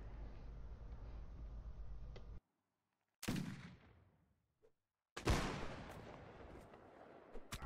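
Musket volleys in the Mount and Blade Warband L'Aigle mod: loud crackling rifle volleys with echoing tails, separated by sudden silent gaps, over a steady battlefield din.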